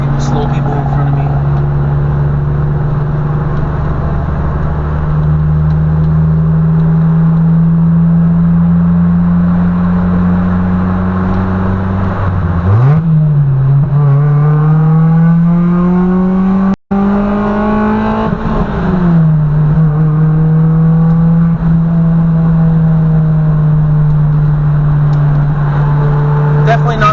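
Engine of a manual car with a broken first gear droning steadily while driving, then revving up through a rising, falling sweep before settling back to a steady hum, with someone talking over it.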